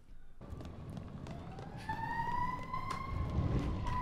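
Wailing ambulance siren outside in the video game Resident Evil Village, a rising and sweeping tone that grows slightly louder over a dense low rumble, with no talking.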